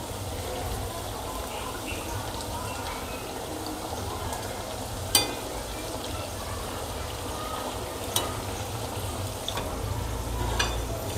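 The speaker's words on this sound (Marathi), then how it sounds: "भजी मस्त छान टम्म फुगली, मस्त लालसर तळून घ्यायचं।" Potato bhaji fritters deep frying in hot oil, a steady close sizzle and bubbling with a few sharp clinks of a utensil against the pan, and no talking.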